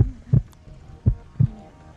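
A steady heartbeat sound effect in a Nerf gun battle: three distinct deep double thumps spaced about a second apart, loud and close, with no talking over them.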